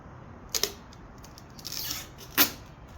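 Adhesive backing peels off a replacement BMW car badge in two brief crackling rips separated by a quieter stretch of faint rustling, close up with no talking.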